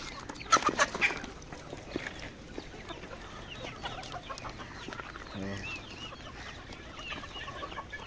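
Desi chickens on a village poultry farm cluck and squawk at close range, a burst of loud calls early followed by softer scattered clucks and one rattling call, over a rustling background.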